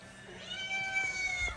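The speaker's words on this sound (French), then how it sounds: "En fait, c'est un chat de dehors." A small, outdoor cat that may be pregnant lets out a single drawn-out meow close by, rising and then falling in pitch over about a second and a half, above a low indoor background.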